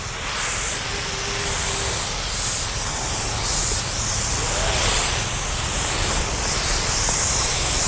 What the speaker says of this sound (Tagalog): Yan, after natin mag-spray, si paring Jomar nag-spray